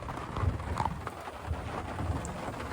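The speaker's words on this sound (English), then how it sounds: "we got rain and thunder outside and the river right there" Rain falling outdoors near a river, with thunder rumbling in the background; a steady, moderately faint hiss of rainfall with low rolling rumbles and no voices.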